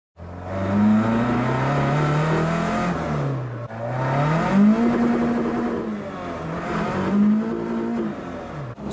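A car driven on the road with a suspected variable valve timing (VVT) issue, its engine revving up and down in repeated rising and falling surges, loud and close, with no talking.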